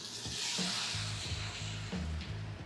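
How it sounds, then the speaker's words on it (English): Pasta with mushrooms and Marsala wine simmers in a pan with a steady, close sizzling hiss and occasional low bubbling pops, with no voices. "So as you can hear, that pasta and everything starting to really simmer."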